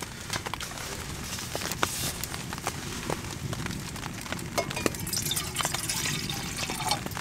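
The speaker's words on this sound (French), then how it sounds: "moi qui voulais pas faire bouillir mon eau" Water coming to a boil in a pot at a snowy forest bushcraft camp with a wood stove: a steady close hiss scattered with irregular soft pops and clicks, no talking.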